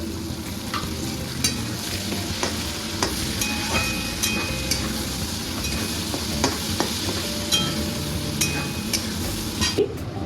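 Chopped onion sizzling in ghee with whole spices in a pan, a steady close frying hiss broken by frequent light clinks and scrapes of a utensil stirring.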